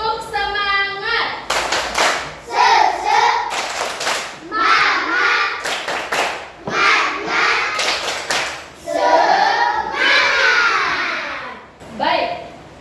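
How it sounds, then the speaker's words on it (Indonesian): Schoolchildren standing in a classroom clap a patterned spirit cheer, loud bursts of rhythmic claps and thumps alternating with chanted children's voices. "Coba kita tepuk semangat."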